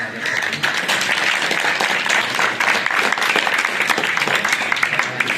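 A crowd claps loudly and steadily, sustained applause filling the whole stretch with a few voices mixed in.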